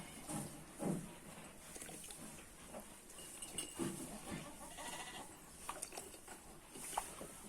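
Sheep bleat a few times at moderate distance amid faint farmyard rustling, with quiet stretches between the calls.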